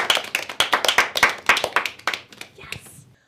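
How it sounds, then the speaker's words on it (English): A small audience at a fall prevention talk for older adults claps in a close, distinct rhythm of individual hand claps that thins out and stops after about three seconds. "So give yourself a round of applause."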